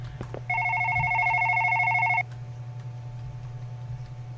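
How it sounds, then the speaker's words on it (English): A phone rings in a horror video game: one short, bright electronic trill about two seconds long, heard over a steady low background hum, then it stops. "Shut your phone up, Bob!"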